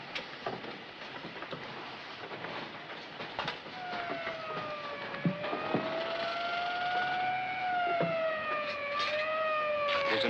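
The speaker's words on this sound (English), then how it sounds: "There's an ambulance coming," An ambulance siren in a 1940s city street scene wails with long rising and falling tones that grow steadily louder as it approaches, over a faint rumbling background.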